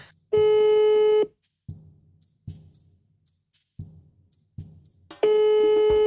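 A mobile phone ringback tone sounds: two long electronic beeps separated by a few seconds of near silence with faint low thumps.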